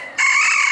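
A black mottled or blue mottled breeding rooster lets out a loud, close crow that starts abruptly and holds steady for nearly a second, with no talk over it.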